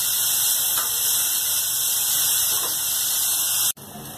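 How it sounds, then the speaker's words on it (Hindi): Chopped onions roast in an oiled pan for a dhaba-style paneer masala, giving a loud continuous hiss and sizzle with a high squealing tone on top that cuts out abruptly near the end. "बहुत अच्छी तरीके से इसको रोस्ट करना है प्याज को हमें।"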